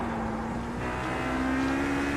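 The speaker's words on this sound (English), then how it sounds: "Coming up on a slower car." Race cars in the iRacing sim during a 24-hour Le Mans team race, a steady loud engine drone with a sustained tone that slowly rises as a slower car is approached.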